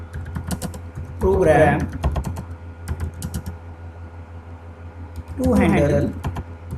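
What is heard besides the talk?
typing on a computer keyboard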